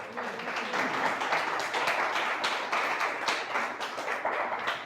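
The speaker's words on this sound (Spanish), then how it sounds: "Dele un aplauso al Señor" Church congregation clapping, a lively round of applause with distinct individual claps and a loose rhythmic feel, fairly close and steady throughout, with faint voices underneath.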